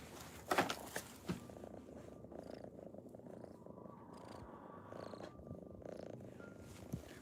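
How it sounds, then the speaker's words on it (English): A rescued female pet rumbles with a soft, continuous close purr under quiet room noise, with a few brief knocks near the start. "She is a purr machine."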